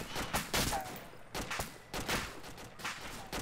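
Gunfire in ArmA II, a run of distant rapid shots and bursts, faint and somewhat muffled, recurring every second or so across a few seconds.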